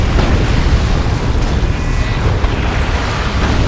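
In the game Dawn of War 2: Retribution, auto cannons fire amid explosions, a dense, loud and continuous roar of booms and blasts with no clear gaps.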